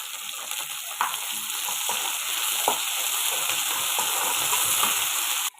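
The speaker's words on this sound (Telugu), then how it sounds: "ఇవన్నీ బాగా వేగాలండి." Spices and fenugreek leaves fry in a pan for an eggplant dish, giving a bright, steady hiss with a few stirring scrapes. The sizzle is close and even, and nobody speaks.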